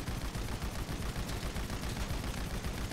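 Gunfire in GTA V Online, a dense, continuous rattle of rapid shots that stays loud and close across the whole stretch, with no talking over it.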